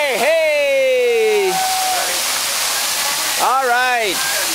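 Water pours down a waterfall in a constant loud hiss, while excited voices call out briefly over it at the start and near the end.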